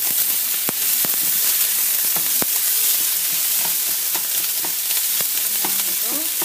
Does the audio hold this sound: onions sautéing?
yes